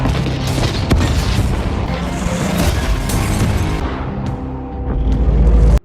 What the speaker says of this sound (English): He sabotages Pushkin's oil tankers and destroys them.